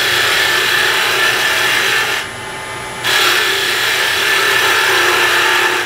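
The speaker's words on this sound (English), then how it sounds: "I'm going to go back to the spindle, the shallow fluted gouge" A shallow fluted gouge cuts a wood spindle on a lathe, making a loud, continuous, steady scraping hiss with a brief softer dip partway through, close up and without talking.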